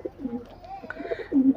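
Golala (red-throated) pigeons coo in a loft, a couple of low throaty phrases rising close by, the last one loudest.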